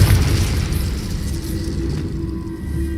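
A Confringo spell explodes in the Hogwarts Legacy video game, a loud, low booming rumble that carries on steadily for about three seconds with no speech.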